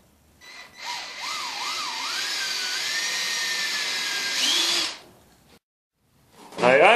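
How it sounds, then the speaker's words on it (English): A power drill bores into the center of a piece of lumber, whining steadily for about four seconds with a rising pitch, then stops; a brief rattle follows near the end. "on our other piece of wood, we're going to drill in right into the center of that right there"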